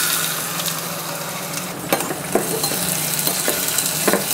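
Garlic sizzles steadily in a hot pan of oil, a dense continuous frying hiss broken by a few sharp scrapes and clinks of a spoon stirring, close and fairly loud.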